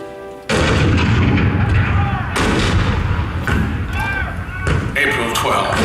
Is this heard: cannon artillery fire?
yes